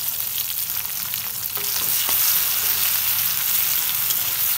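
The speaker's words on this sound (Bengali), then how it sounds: "একটু তেলে ভাজা ভাজা হোক" Dried fish (shutki) frying in oil in a home kitchen, a steady, dense sizzle that grows slightly louder partway through, with faint stirring scrapes and no talk.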